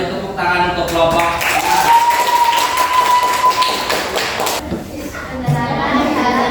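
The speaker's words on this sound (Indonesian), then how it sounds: "beri tepuk tangan untuk kelompok" A classroom of students claps for a group during a lesson, a brisk patter of many hands that fades out partway through, with a teacher's voice talking over it.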